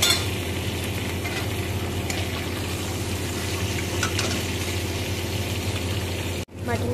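Boiled mutton pieces frying and being stirred into well-cooked masala for karai mutton, a dense continuous sizzle with a steady low hum underneath and a brief break near the end.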